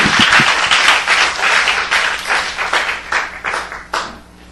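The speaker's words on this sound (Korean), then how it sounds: "박수 부탁드립니다." Applause from a church gathering audience at a camp forum, a burst of clapping that swells and fades over several seconds, with a few nearer claps at the start, no talking.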